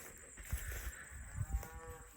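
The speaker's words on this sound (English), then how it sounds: "sounds like there's cows on the other side too." Cows mooing from a neighboring field beside a rural homestead backyard, a few low drawn-out calls that sound faint and distant against quiet outdoor ambience.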